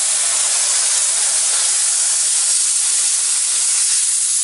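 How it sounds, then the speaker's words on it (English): A jewelry steam cleaner blasts high-pressure steam to clean the underside of a diamond, a loud, continuous, even hiss filling the whole stretch without pause. "This is a steam cleaner, which will shoot out a high pressure steam to clean the underside of the diamond."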